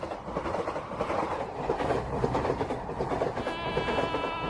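A passenger train passes close by, loud continuous rolling rumble with rhythmic clickety-clack of wheels over rail joints, and a high whining tone entering toward the end.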